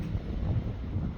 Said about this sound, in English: Sorry about the wind. It's really windy today.